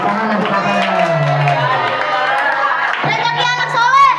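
Schoolchildren at an elementary school orphan-charity event cheer and shout together, a loud close chorus of young voices that swells again near the end, with only light clapping mixed in.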